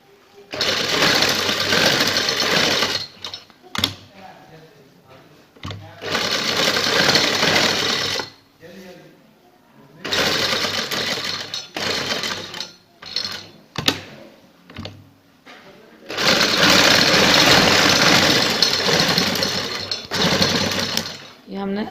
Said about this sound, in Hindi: ये हमने सेंटर के अंदर से स्टिचिंग कर लिया।